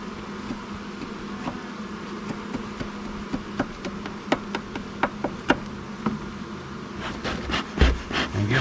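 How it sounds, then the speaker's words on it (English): Bees buzz inside the cut-open wall of an abandoned RV, a continuous droning hum dotted with sharp knocks and taps that grow denser and louder toward the end, with no talking. "Give them some smoke, because you know you just probably cut a couple of bees in half."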